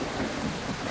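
Steady rain hisses down in a dark video game scene, a dense, even wash of sound over a brief moment with no voices.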